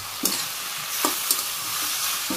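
Fish drops into a simmering Bangladeshi curry with eggplant and potato, setting off a steady close sizzle broken by several soft scraping stirs against the pan, with no talk.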